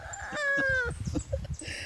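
A man imitates a rooster crowing on a rural farm: one drawn-out, loud, close cock-a-doodle-doo call that then breaks into rough, clucking-like sounds.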